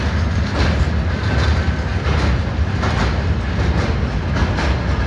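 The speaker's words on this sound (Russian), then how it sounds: "У этого заразы грузовых поездов очень много вагонов." A long VL8 electric locomotive freight train rolls through a station in Kryvyi Rih, the steady loud roar of many wagons carrying continuous wheel clatter from start to finish with no talk.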